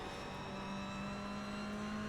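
Toyota GR86 race car at speed on a circuit, its engine holding a steady, continuous drone from close range, with no voices.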